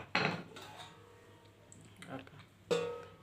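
Pieces of wheat-flour and jaggery dough are set one by one into a metal vessel, making three light, close clunks separated by quiet pauses.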